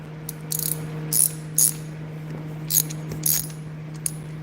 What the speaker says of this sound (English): Now I have this wrench that lets me wrench things